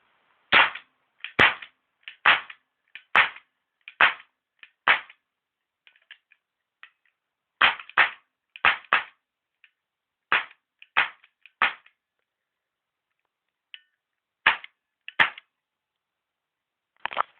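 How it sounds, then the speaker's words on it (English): A Walther CP88 CO2 air pistol fires a series of sharp, close cracks in irregular bursts, sometimes in pairs. Quiet gaps separate the shots, and there is no talk. "You'll be able to see the plume coming off the front of this when I fire it."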